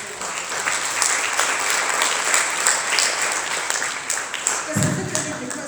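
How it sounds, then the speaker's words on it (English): An audience at a wildlife conservation strategic plan launch applauds as a program leader comes up, dense sustained clapping from many hands, with a speaker's voice briefly heard near the end. "I think I would also request another round of applause for this gentleman as he comes up, Mr. Sibarashe Chatikobo"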